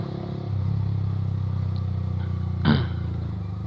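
A Yamaha R15 motorcycle runs at a Sunday-morning group ride spot in Grand Wisata, its steady mid-pitched engine drone filling the background, with a short louder burst near the end as it goes by.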